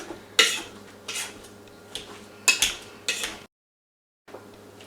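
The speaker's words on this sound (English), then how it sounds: "I'm just going to mash it like this, just so it doesn't get overbeaten" Boiled potatoes for lefse being mashed with an old-fashioned hand masher in a bowl: a handful of close, sharp metallic clanks and squishes in an uneven rhythm, broken by a brief silent pause.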